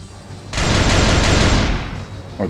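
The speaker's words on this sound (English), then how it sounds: "That's definitely the mortar strike." Mortar strike explosions in the video game Ravenfield: a loud, dense burst of rumbling blasts that starts abruptly, roars for about a second, then trails off into a lower rumble.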